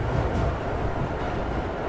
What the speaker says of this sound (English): the train jolted back into movement